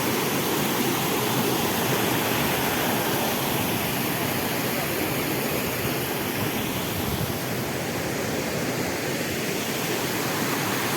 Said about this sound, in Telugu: ఈ కొండ కోణల్లో వాటర్ అనేది వెళ్తూ ఉంటే ఈ యొక్క అరకుకే అందాన్ని తీసుకొచ్చింది ఈ వాటర్ ఫాల్స్